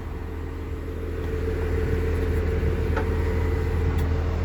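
A Komatsu motor grader's diesel engine rumbles loud and steady at a constant low drone for the whole stretch while its wheels are being turned, with no voices.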